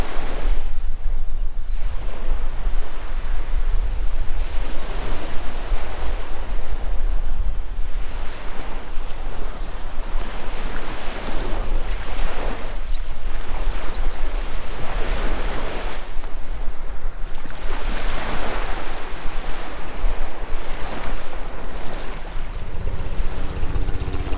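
Ocean surf rolling onto the beach at Fort Pickens National Seashore, a loud continuous roar of breaking waves in slow swells with gusty wind buffeting the microphone, no voices.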